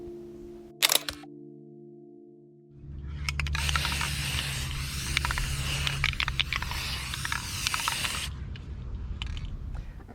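After a sharp click, an aerosol spray hisses steadily for several seconds onto a handmade seashell flower craft, then cuts off, leaving a quiet room.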